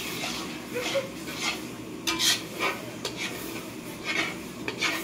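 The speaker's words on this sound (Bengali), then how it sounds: "কুশল আবার গিয়ে এখন কড়াই নাড়ছে" A spoon scrapes and clinks around a heavy kadai as food is stirred, in irregular metallic strokes with soft sizzling underneath, close and moderately quiet.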